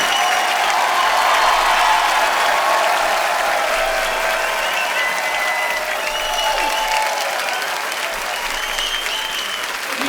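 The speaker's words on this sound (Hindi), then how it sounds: "आप सबकी जोरदार तालियों के बीच इन्वाइट करना चाहूंगा the very talented mister Abhay Deol and Diana बेंटी।" A studio audience on a comedy talk show bursts into sustained, even applause as guests are welcomed, dense clapping holding steady for the whole stretch with no voices over it.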